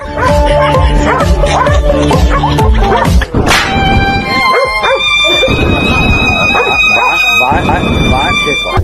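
Dogs yap and bark excitedly at a horse amid loud, busy sound, with whimpering yelps and a sharp commotion partway through as the horse kicks a dog.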